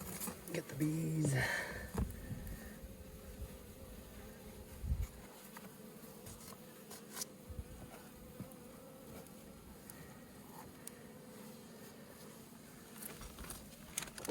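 A low, continuous buzzing of honeybees in a hive box in late winter, fairly faint and steady, with some soft rustling and scattered taps around it.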